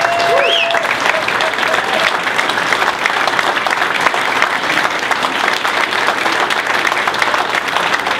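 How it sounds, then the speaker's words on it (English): An audience at a Rye Republicans gala reception applauds, with dense, sustained clapping from many hands that stays loud and even throughout, mixed with some crowd noise. "We should give a really big round of applause to Skip Murphy and Mike Rogers from GraniteGrok."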